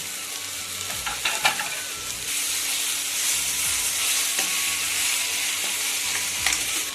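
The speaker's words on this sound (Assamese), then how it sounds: "এতিয়া মোৰ মছলাখিনি ভাজা হ'ল, তৰকাৰীখিনি দিম। ইয়াত অকণমান চয়াবিনো দিম।" Vegetables and soya chunks tipped into fried spices in a pan sizzle loudly and steadily, with a few clanks of a spoon early on before a continuous hiss takes over.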